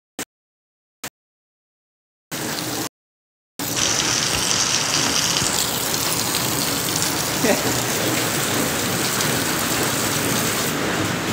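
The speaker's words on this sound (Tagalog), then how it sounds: "Grabe ulan" Heavy rain pours steadily in a dense, loud roar after a few brief clicks and a short burst at the start.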